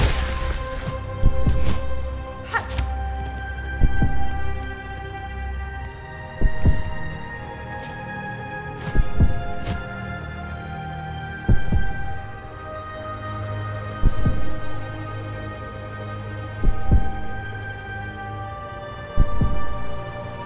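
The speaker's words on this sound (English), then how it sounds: "The heartbeat is supposed to be overlaid over everything else" A steady heartbeat sound effect from the video game Hollow Knight: Silksong pulses in regular double thumps every couple of seconds, layered over a sustained musical drone and soft ambient tones with no talking.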